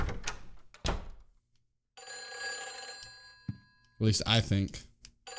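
A telephone rings in the video game Silent Hill 4: The Room, a bright repeating electronic trill sounding between bursts of other game noise, with someone briefly talking nearby.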